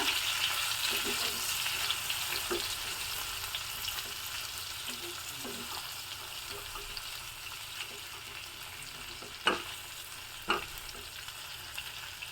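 Sliced okra sizzles steadily in a hot pan with salt while a spoon stirs it, giving continuous frying crackle broken by occasional scraping knocks.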